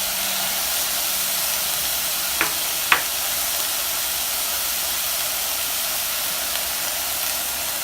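Apple filling sizzles in a saucepan on medium-high heat, a steady loud hiss of frying with a couple of brief clinks early on, continuous and close with no talking.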